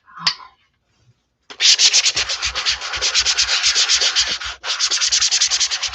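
Rapid back-and-forth rubbing scrapes across a mini journal page, a brief tap first, then a dense steady run of rough strokes with a short break before it resumes.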